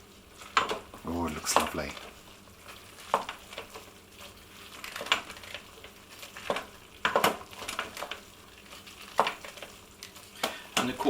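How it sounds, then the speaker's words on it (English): Tomato puree and yeast extract being stirred into a vegetarian bolognese-style sauce in an Instant Pot, with a series of scraping, clinking spoon strokes against the pot and faint sizzling underneath, while people chat over it. "We're going to stir that all in."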